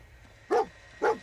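Dogmeat, the canine companion in Fallout 4, gives two sharp, close barks about half a second apart over a quiet background hum.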